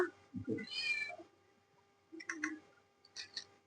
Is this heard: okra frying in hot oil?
no